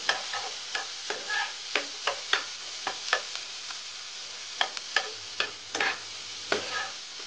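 Chopped garlic sizzles in hot oil in a pan, with steady frying hiss broken by repeated sharp scrapes and clicks of a stirring utensil at an irregular rhythm, close and moderately quiet.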